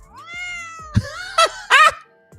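A cat sound effect: a drawn-out tonal meow followed by a few shorter, sharper cries, loud and close with no talking over it.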